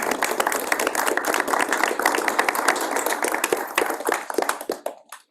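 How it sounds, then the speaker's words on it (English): Dense, sustained clapping from the audience for speakers and panelists at the Purdue XR Symposium 2024 panel, holding steady for several seconds before stopping abruptly. "I want to round of applause."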